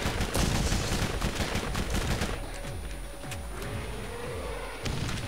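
Rapid SMG gunfire in the Borderlands video game, dense bursts of shots loud at first, then thinner scattered shots with booming thuds over a steady game background.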